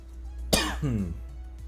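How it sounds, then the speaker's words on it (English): A single sharp cough bursts out, close and fairly loud, followed by a short voiced throat-clearing tail, with a steady low hum in the background. "Oh, did you hear that cough? That was a good cough."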